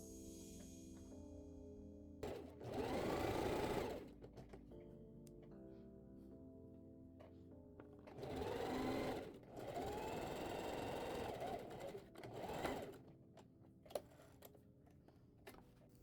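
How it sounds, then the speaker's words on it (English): Sewing machine stitching elastic around the top of toddler summer shorts, running in three loud buzzing bursts separated by quiet pauses in a calm room. "Now we're going to sew around the top of our shorts to secure that elastic to it."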